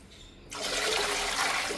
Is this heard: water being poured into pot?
yes